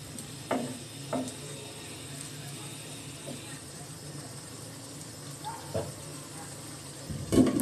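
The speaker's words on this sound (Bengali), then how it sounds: "মশলার সঙ্গে কলিজাটা ভালো মতো একটু নেড়ে নিচ্ছি।" Small pieces of beef liver, about 250 grams, get stirred with spices in a cooking pot, with soft scraping and light sizzle, a few sharp utensil knocks, and a voice talking quietly over it.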